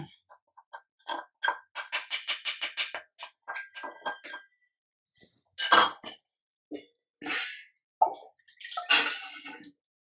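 Water poured into half a kilo of flour for Telangana-style rice dumplings (undrallu), with scattered splashes, drips and clinks of a metal vessel close by, in uneven bursts separated by quiet gaps.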